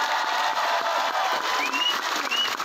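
An audience claps in a dense, continuous burst of applause at a religious gathering in Taichung, Taiwan, moderately loud and steady throughout.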